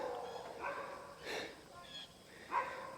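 Dogs bark a few times somewhere near an outdoor running track before a 4 x 800 m workout, the short barks coming in separate bursts over steady background noise.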